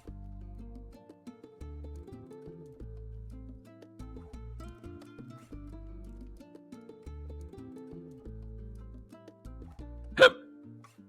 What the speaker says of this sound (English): I got the hiccups all of a sudden.